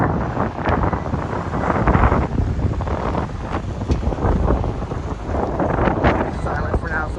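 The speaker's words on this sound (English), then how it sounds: "Oh, here comes a good gust of wind right there." Gusts of wind during a rain squall buffet the microphone in loud, rough surges that rise and fall across the clip, with some speech mixed in.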